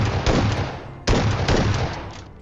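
Gunfire in PUBG Mobile: two heavy, booming shots roughly a second apart, each with a sharp onset and a long ringing decay, loud and close with no talk.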